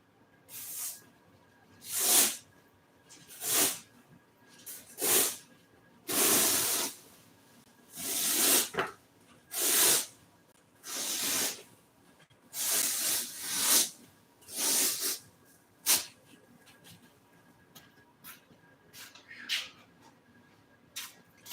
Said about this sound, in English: I'm gonna spray this side right here, turn it over on the seat, and glue it down